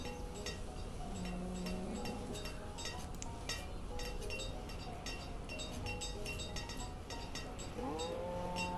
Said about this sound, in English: It is beef cows